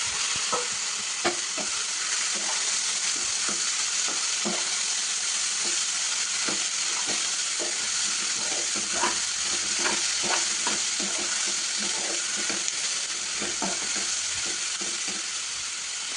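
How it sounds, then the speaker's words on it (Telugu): Boiled ivy gourd stirred into softened onions in a frying pan, giving a steady sizzle with repeated scraping and clinking strokes of the spoon throughout, close and fairly loud with no talking. "అందులోనే ఇందాక మనం బాయిల్ చేసి పెట్టుకున్న దొండకాయలు వేసి కలుపుకోవాలండి"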